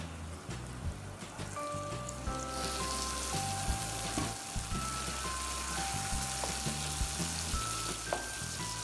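Goat brain masala sizzles steadily in a pan, a dense crackling fry that is fairly quiet and unbroken, with no voices over it.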